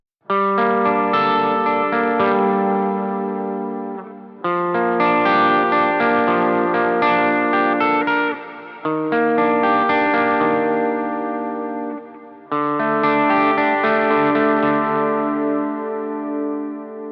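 A clean electric guitar with high-output humbucker pickups, coils not split, plays four ringing chords, each sustained and fading before the next, with a full, warm tone and slight chorus shimmer.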